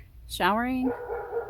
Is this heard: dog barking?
yes